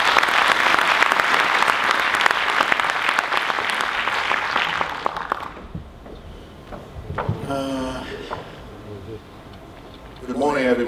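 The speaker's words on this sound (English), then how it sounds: "please give him a very warm round of applause this morning" A conference audience at a formal opening ceremony claps warmly in a dense, loud round of applause that fades out midway, followed by quieter room sounds and a voice starting to speak near the end.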